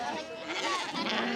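Sheep bleat at an Icelandic sheep roundup, several overlapping wavering cries close by with faint voices in the background.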